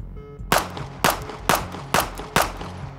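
Five sharp pistol shots from a Staccato handgun during a shooting drill, evenly spaced about half a second apart, loud and close with short echoing tails.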